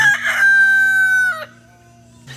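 A rooster crows once, a long, loud, close call that fades out, with a steady low hum underneath.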